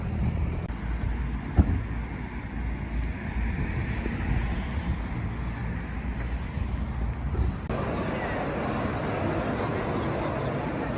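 Street traffic passes on a July walk to a bus stop, a continuous wash of passing vehicles with heavy wind buffeting the microphone, heard throughout with no clear speech.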